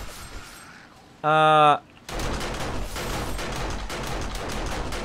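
Automated turrets in 7 Days to Die spray rapid continuous gunfire at zombies, a dense loud crackling barrage after a brief tonal beep, sustained and close.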